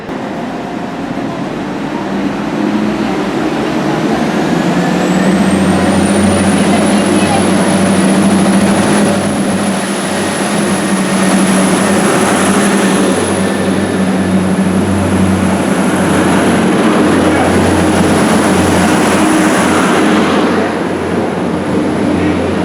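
A Southern Class 455 electric train pulls out of Newport station, a loud sustained rumble and rising traction whine building as it departs, with a high tone holding steady throughout.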